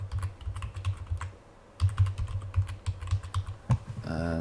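Keys clack on a computer keyboard as a password is typed, a close burst of quick irregular keystrokes with a short pause in the middle.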